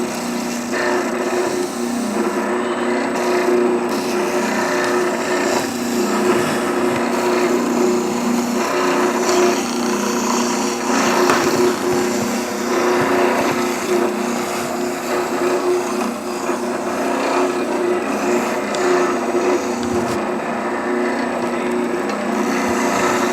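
A power tool sands the inner pocket of a wooden piece with a continuous, close, abrasive whir that holds steady throughout and carries a faint grinding texture.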